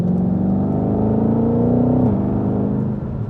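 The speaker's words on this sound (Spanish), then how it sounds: "los motores V8 tienen un sonido espectacular, pero los V8 americanos tienen un poquito más de sonido" A Ford Mustang Shelby GT500 V8 revs steadily and loudly up close. Its deep, rumbling note holds a rising pitch, then drops briefly near the end with no talk over it.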